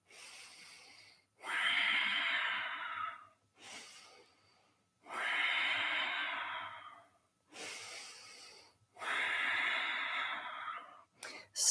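Long, deep breaths during Kundalini yoga, slow audible inhales and exhales close to the mic in a steady cycle of about three full breaths with brief pauses between.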